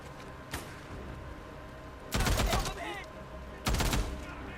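Gunfire in the video game Days Gone, with a faint early shot followed by two loud bursts of rapid fire, each about half a second long, over a low background of game ambience.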